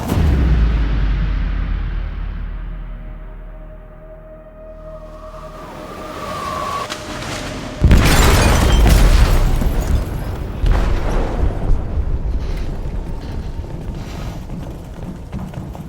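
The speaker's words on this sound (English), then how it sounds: "They detonated an explosive in the hold. The ship is sinking, sir." A massive explosion aboard a ship in the video game Detroit Become Human: a low rumbling build then a sudden loud boom with sustained roaring, crackling debris and deep rumble continuing for many seconds.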